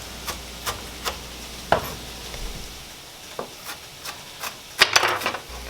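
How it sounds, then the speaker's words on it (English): Onions being chopped up in a kitchen while making a Mediterranean tofu scramble, giving scattered knife taps on a board at an irregular rhythm, quiet and close, with no talking. "right now I am working on chopping up the onions as well"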